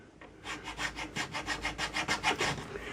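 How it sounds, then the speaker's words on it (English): Steady back-and-forth file strokes cut a string groove into a horn nock fitted on a yew longbow, about a dozen even rasping pulls in close succession, close and alone. "that's where I'm going to rasp, well, file"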